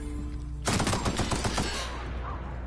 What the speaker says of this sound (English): But that was just horrible shooting right there.